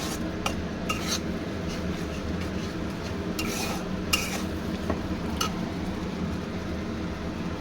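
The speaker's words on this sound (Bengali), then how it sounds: "মশলাটা দিয়ে একটু নেড়ে চেড়ে কষিয়ে নেব" Spice paste for boal fish curry is stirred and sautéed in a pan, with a utensil scraping and clinking against the metal. The scrapes come in several sharp bursts over a steady low cooking rumble, close and fairly loud.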